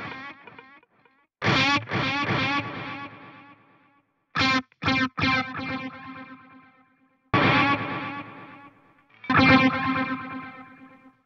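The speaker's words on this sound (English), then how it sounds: "I'll let you basically hear the difference between series delays, series ping pong, and just parallel." Electric guitar through a Strymon DiG delay in parallel mode: four bursts of strummed, heavily effected chords with chorus-like shimmer, each trailing off in smeared repeats, close and loud with short gaps between.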